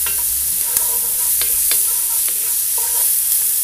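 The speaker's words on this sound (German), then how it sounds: "Und jetzt werden wir die Zwiebeln glasig" Onions with turmeric sauté in a Dutch oven with a steady close sizzle and a hissing high wash, punctuated by several sharp clinks of a utensil stirring against the pot.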